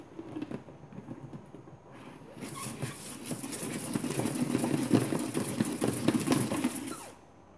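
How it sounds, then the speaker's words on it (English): After a brief handling noise, a salad spinner whirs up and spins out washed beet leaves for about five seconds, a close steady mechanical rattle that then winds down. "I'm even spinning out my beet leaves in here"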